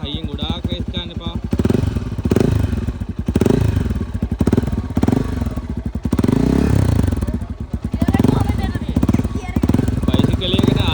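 A motorcycle engine starts and revs hard in repeated bursts, loud and close, with shouting voices over it throughout.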